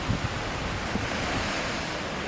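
Ocean waves and steady wind on a seaside promenade in Busan, South Korea, a continuous broadband wash of surf with gusting wind noise on the microphone and no voices.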